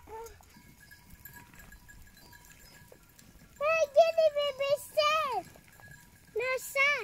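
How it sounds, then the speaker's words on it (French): Goats on a path in southern Turkey give a run of loud, close bleats in quick succession after a quiet stretch, followed by another pair of bleats, with faint background sounds in between. "On a croisé les chèvres"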